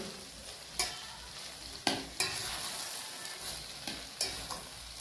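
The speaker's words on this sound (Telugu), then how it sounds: "ఇప్పుడు రైస్ వేసేస్తున్నాము. ఇది బాగా కలిపేస్తూ" Rice stirred through with carrot in a hot pan for potato fried rice, a steady low sizzle broken by a handful of sharp spatula scrapes spaced across the moment, close and fairly quiet, with no voices.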